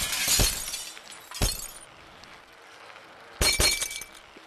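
Glass shatters in the Happy Wheels video game: three loud, bright breaking bursts, the last one longer and crashing, with a hissy tail between them.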